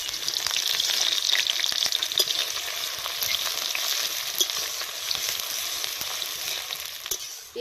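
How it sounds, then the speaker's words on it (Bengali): Chopped onions fry lightly in a pan for chicken kanti, giving a close, continuous crackling sizzle that holds steady throughout with small pops and no voices. "পেঁয়াজটা ভাজা ভাজা হয়ে এসছে একটু হালকা।"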